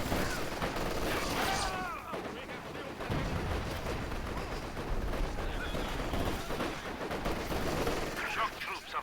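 A machine gun fired from the hip in Company of Heroes 2 gives continuous rattling bursts of gunfire amid battle noise with distant explosions, heavy and sustained across the whole stretch.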